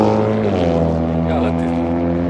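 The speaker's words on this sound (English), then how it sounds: "y'all have to excuse the traffic." A loud vehicle with a noisy muffler passes close by in traffic, its engine roar rising and falling over a couple of seconds.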